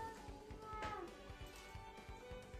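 A house cat meows faintly while fighting with a window, the cries mixed with soft, regular low thumps.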